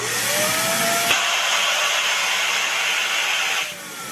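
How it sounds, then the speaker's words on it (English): A vacuum pump evacuates a homemade vacuum chamber with a balloon sealed inside, droning loudly and steadily. Its tone shifts near the one-second mark, and it drops off sharply just before the end. "Now I'll test my vacuum chamber with a balloon to see how much the balloon expands."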